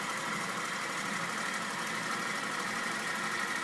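Durable engine of a green engine distiller runs in a steady, even hum with a faint mechanical knock, constant and unchanging at close range with no talk.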